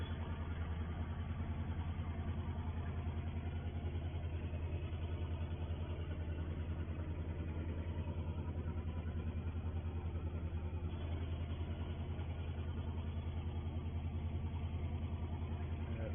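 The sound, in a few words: tractor engine idling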